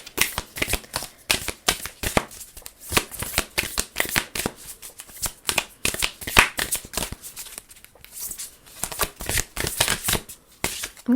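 A deck of self-love oracle cards being shuffled by hand, a steady stream of quick papery riffles and slaps, close and fairly soft, with no talking.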